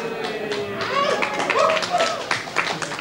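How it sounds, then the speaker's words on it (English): Cheering and clapping fill the JPL control room as Voyager makes its closest approach to Saturn, with mixed voices and scattered claps overlapping at a steady, lively level throughout. "And hear the cheer from here in JPL."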